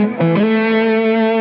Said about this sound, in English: I'm going to demonstrate here the difference when you have just the bridge pickup and you blend in the neck pickup with it.